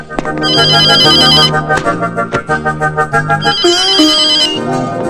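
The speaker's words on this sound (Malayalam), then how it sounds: "നമ്മുടെ മഞ്ജുന് വിളിച്ചു പറയട്ടെ." A telephone rings with a melodic electronic ringtone, loud and close, repeating its tune in two bursts with a rhythmic pulsing pattern in between, without talk.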